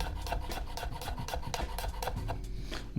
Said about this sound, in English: I'm just gonna run my knife through it all